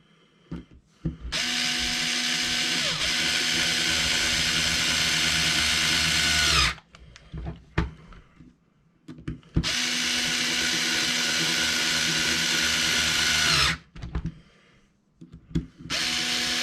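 A power drill drives screws into a Traxxas 4-Tec 3.0 body mount, running in two long sustained whirring bursts of about five seconds each, separated by brief clicks and handling noises, with no talking.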